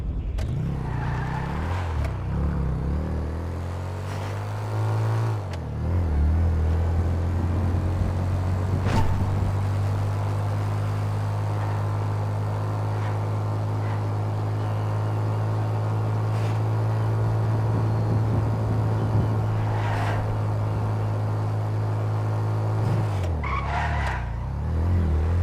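An off-road car in a video game drives with a steady low engine drone, with tire skids and scrapes at the start and end of the run.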